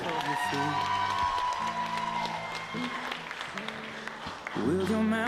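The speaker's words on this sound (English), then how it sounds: "a big round of applause for contestant number 3, Mrs. Herndon Jennifer Taylor" Applause and cheering from a pageant audience as a Mrs. Virginia contestant is introduced, a broad crowd wash under loud stage music with sustained tones and a voice over it.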